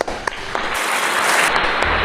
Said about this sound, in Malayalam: മികച്ച തീരുമാനം കൊടുക്കാം നല്ലൊരു കൈയടി